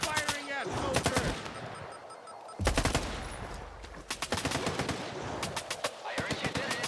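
Gunfire in a survival horror video game, rapid automatic bursts crackling loudly and close in several volleys, with short gaps between them and a voice talking underneath.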